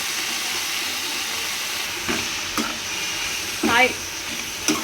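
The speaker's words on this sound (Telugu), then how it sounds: "ఇలా ఆకు మగ్గేదాకా ఇలా కలుపుకుంటూ ఉండాలి" About a hundred grams of gongura leaves are fried in a spoonful of oil while a spoon stirs them. A low continuous sizzle is broken by a few sharp scraping taps against the pan, and one brief higher squeak occurs midway.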